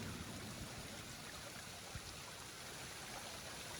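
Waterfall on the Jurassic Coast at Pinay Bay, a faint, steady rushing hiss of falling water with no pauses or voices.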